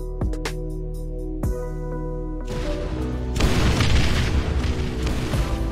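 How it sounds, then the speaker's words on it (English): Jets blowing up in an AI-training simulation game: a couple of sharp booms early on, then a dense, loud rumbling burst of explosions that carries through to the end. "They still end up exploding though, because when they go too far from the center, they automatically blow up."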